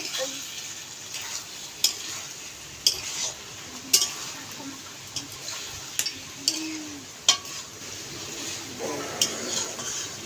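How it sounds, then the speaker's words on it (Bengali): Potato, pumpkin and Malabar spinach cook in a pan, with a soft continuous sizzle under repeated sharp clinks and scrapes of a utensil stirring against the metal, close and fairly quiet. "একটু নাড়িয়ে নিলাম।"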